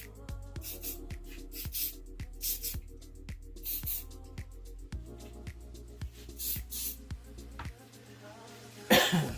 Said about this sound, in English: Hit it with a little accelerator